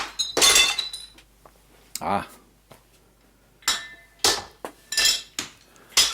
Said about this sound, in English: Glass.